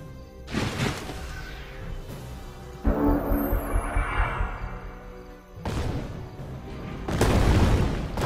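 A fire broadside attack in the fantasy strategy game Age of Wonders 3, heavy booming blasts with whooshing bursts that arrive in several loud waves, with dense battle effects between them.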